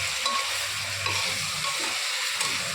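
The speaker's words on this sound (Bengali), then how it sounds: "এবার একটু নাড়াচাড়া করবো।" Chicken stew being stirred in a pressure cooker with refined oil, a steady sizzling hiss running throughout with faint scraping movement beneath, close and unbroken, no voices.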